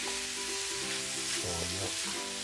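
Vegetarian pancit habhab noodles are stirred in a hot pan, giving a steady, moderately quiet sizzle with soft shifting scrapes as the noodles are moved, heard close with no speech.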